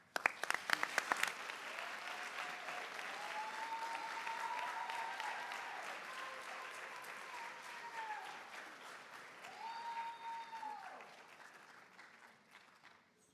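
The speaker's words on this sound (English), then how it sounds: "How about one more round of applause for our Founders" An audience at a charity challenge finals event claps for the founders track finalists, a full, sustained wash of applause that swells early, holds steady, then slowly thins out, with a few cheers rising over it.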